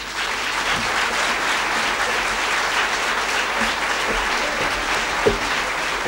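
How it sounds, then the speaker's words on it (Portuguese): An anniversary event audience gives a children's choir group a continuous, loud round of applause, with many hands clapping evenly and close by. "E é para eles que eu peço uma salva de palmas."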